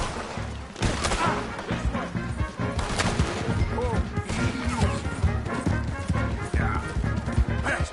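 Gunshots crack over galloping hooves and crashes during a horseback chase in Red Dead Redemption 2, with shouting voices mixed through the busy scene.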